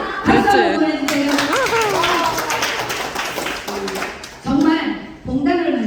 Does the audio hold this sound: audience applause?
yes